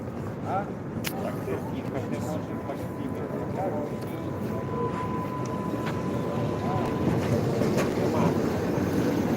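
Low rumbling noise builds steadily as a Swiss-built tram in Lviv rolls closer, with wind buffeting the microphone and faint voices in the background.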